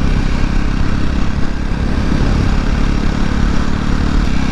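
A Jawa 42 motorcycle running with its exhaust DB killers removed, giving a loud, raw, continuous engine roar heard up close while riding, steady throughout with no talk.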